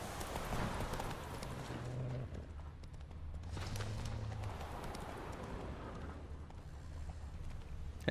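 Horse hooves clip-clop steadily in The Witcher 3 video game, a soft rhythmic plodding heard through faint ambient outdoor game sound with no talk.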